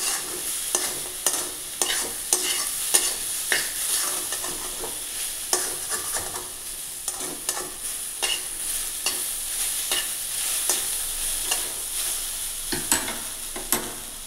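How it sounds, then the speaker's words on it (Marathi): Okra stir-fried in an open, uncovered pan with lemon added: continuous close sizzling broken by frequent sharp clacks and scrapes of a spatula against the pan in an irregular stirring rhythm, with no voices. "अशी छान शिजून घ्यायची ती भेंडी, झाकण ठेवायचं नाही"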